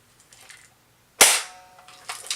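A single loud, sharp shot from an airsoft MP40 submachine gun, with a fast attack and a decaying ring, set between quiet handling noises in the room.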